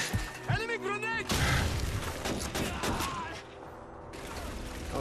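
Machine gun fire and explosions crackle through a Call of Duty 2 battle, dense bursts of shots and booms with shouted voices, loud and chaotic before easing into a quieter rumble.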